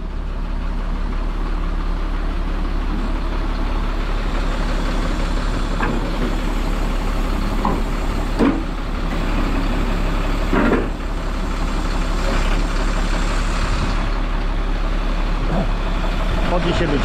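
A special-purpose truck idles steadily nearby, its low engine drone constant throughout, with a few brief clunks and knocks over the rumble.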